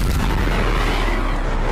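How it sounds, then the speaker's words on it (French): An explosion sound effect from the anime RE:Creators, a loud, dense low boom with rumbling, noisy texture that fills the whole short moment without a break. "Mais surtout, et là vous me voyez venir, les explosions."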